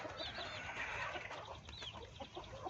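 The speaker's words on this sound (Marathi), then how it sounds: "2 महिन्याचा कोंबडा आहे हा." A two-month-old rooster clucks softly nearby in short bursts while eating leaves, with faint chirps and rustling around it.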